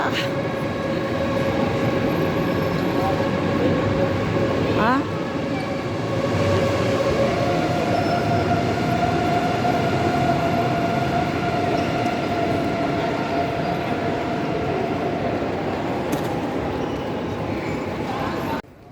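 Trains at Frankfurt railway station, a steady rumble of rolling stock with squealing tonal whines and hall echo, continuous and moderately loud, with a voice speaking over it.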